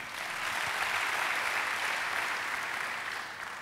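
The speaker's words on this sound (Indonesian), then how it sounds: "Yang setuju tepuk tangannya meriah bagi dia." A church congregation applauds steadily for several seconds, a dense wash of clapping that holds level and tapers slightly at the end.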